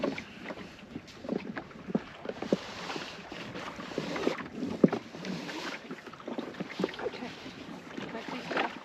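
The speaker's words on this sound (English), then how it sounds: "We're sailing across the Markermeer from Hoorn towards" The small sailboat Avel Dro sails across the Markermeer with wind buffeting the microphone and water washing and knocking against the hull, uneven gusts rising and falling throughout.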